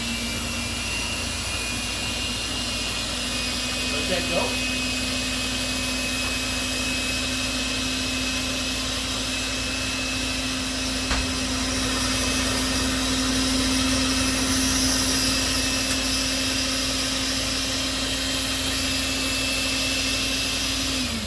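A loud, continuous motor whine of an electric mixer whipping icing runs steadily throughout, with a constant hum and broadband whir, briefly joined by a few muffled words.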